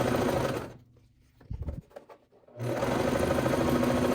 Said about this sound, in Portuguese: Aqui na máquina eu vou passar uma costura nas extremidades, nessas 2 partes.